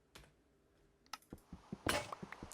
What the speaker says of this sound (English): Try not to hit that keyboard key too loud